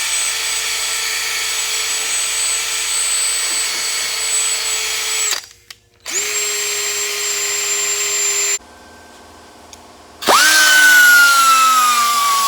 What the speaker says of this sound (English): But you'll do a lot more cutting if you reverse the drill,